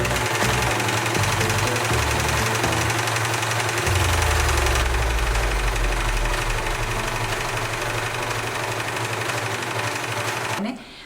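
Sewing machine stitching silk fabric with a fast, steady mechanical whir and rapid needle chatter, close and continuous until it stops at the end, with someone talking over it.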